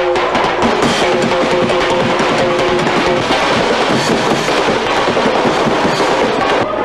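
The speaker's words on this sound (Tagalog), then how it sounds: "hindi kumpleto ang bagong taon kung walang putukan" New Year's fireworks and firecrackers go off at midnight in a dense, continuous barrage of loud bangs and crackling pops, with no pause between blasts.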